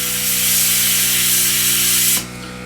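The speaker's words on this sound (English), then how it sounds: "all I'm doing is just spraying the center." A double-action airbrush sprays paint onto an Eduard Messerschmitt 109K model kit, giving a steady, close, even hiss that stops abruptly near the end, leaving only a quieter background hum.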